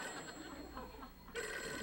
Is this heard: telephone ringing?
yes